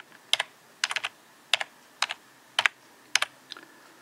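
Someone types a username on a computer keyboard: several quick bursts of crisp, close key clicks separated by short pauses, with no talking.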